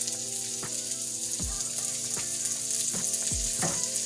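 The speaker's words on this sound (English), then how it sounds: "I'm gonna add my vegetables, which is the 1/4 cup of combined poblano peppers and red peppers in here, and get those sauteed up pretty good" Poblano and red peppers sautéing in a pan, a steady crackling sizzle with occasional low thumps and stirring clatter, close and even, with no voices.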